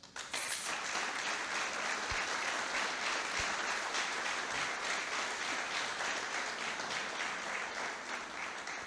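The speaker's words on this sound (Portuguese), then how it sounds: "Ele merece uma salva de palmas" A crowd applauds steadily for several seconds, dense overlapping clapping that stays loud and even before tapering slightly at the end.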